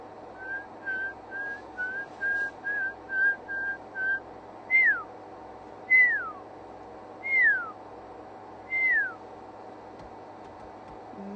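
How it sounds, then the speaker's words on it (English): A pearl-spotted owl calls in a rising series of short whistled notes, then breaks into longer, separate downward-slurred whistles, clear and moderately near over a quiet morning background in South Africa. "I can hear a pearl-spotted owl calling."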